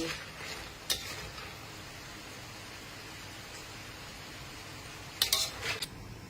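Food frying gently over low heat in a pan, a steady soft sizzle running throughout, with a couple of brief clinks of utensil against pan near the start and toward the end.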